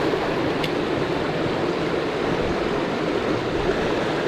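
Vermont river rapids rushing steadily, a close, even roar of churning water with no breaks.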